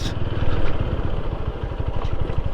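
A motorcycle being ridden toward Abadpukur market after crossing a bridge, its engine rumbling steadily and close with a rapid low pulsing, loud and continuous throughout.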